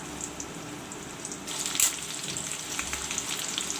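Onions hit hot oil in a pan, giving a steady, close crackling sizzle that grows louder and busier partway through and keeps hissing with scattered pops.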